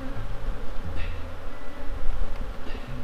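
A dense, steady buzzing of many honeybees at a hive fills the air up close, continuous and fairly loud with no voices.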